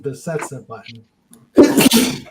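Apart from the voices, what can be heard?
person sneezing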